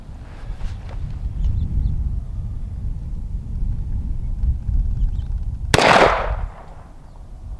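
A Beretta A300 Ultima Patrol 12-gauge shotgun fires a single Aguila Minishell outdoors: one loud, sharp blast near the end, after several seconds of low wind rumble.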